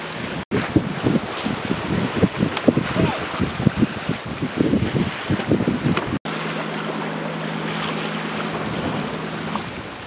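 Wind roars steadily past a sailboat running downwind off the southern point of Kornat island in Croatia's Kornati group, with water sloshing and gusty buffeting at first, then a smoother, constant rush with a low hum.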